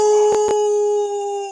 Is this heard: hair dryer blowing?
no